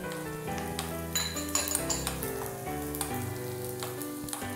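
Shallots and cashew nuts crackle in hot oil for a tempering for mutton stew, a soft, steady sizzle with light utensil clinks, heard faintly beneath background music.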